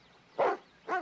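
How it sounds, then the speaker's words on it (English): A dog barks twice in quick succession, two short, fairly close woofs with a brief gap between them, no talking. "Goofy dog."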